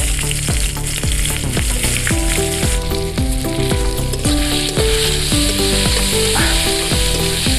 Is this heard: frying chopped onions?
yes